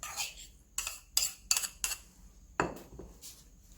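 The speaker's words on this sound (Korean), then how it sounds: "마지막에 부추를 넣어서 모든 재료를 가볍게 섞어주세요" Bowl of dumpling filling with shrimp, chopped green onion, scrambled egg and chives being lightly mixed, giving a series of sharp utensil clinks and scrapes against the bowl, close and fairly quiet, with no talking.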